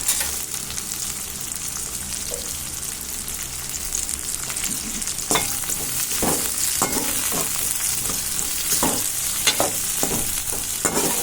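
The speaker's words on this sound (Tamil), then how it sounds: "வெங்காயம் நல்லா வதங்கட்டும்" Steady sizzling of onions and curry leaves frying in hot oil for a ridge gourd gravy, loud and close, with occasional scraping stirs of a spoon in the pan.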